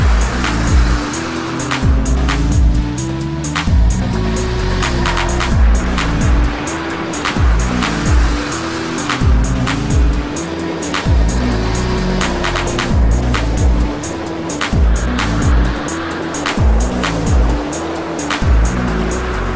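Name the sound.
turbocharged Mazda MX-5 driving and accelerating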